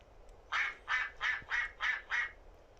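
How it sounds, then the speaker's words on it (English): A duck quacks six times in a quick, even series, clear and near against a quiet background. "A duck makes a quack quack sound."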